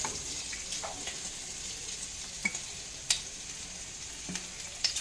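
Corn sizzles in a pan with chillies and turmeric for a corn chevdo, a soft steady frying hiss with a few light clicks of stirring.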